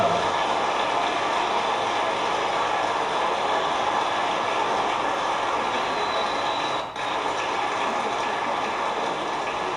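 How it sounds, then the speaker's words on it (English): Cash being dispensed from a hacked ATM after a jackpot exploit: a steady, dense mechanical whirring and ratcheting that runs unbroken at close range, with one brief dip partway through. "And then the money starts coming out of the machine."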